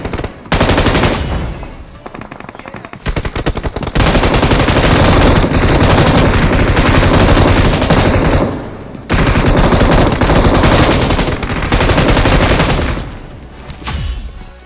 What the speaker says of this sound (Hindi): अब यहाँ पे मुझ पे चारों तरफ से फायरिंग हो रही थी